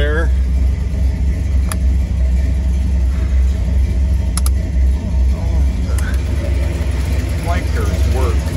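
A 1934 Ford street rod engine idling, a steady low rumbling burble close by, with someone talking over it.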